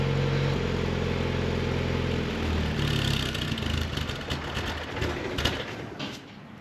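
A Spec Miata's engine idles through a race exhaust with a low, even burble, then cuts out partway through, leaving faint ambient noise and scattered light clicks.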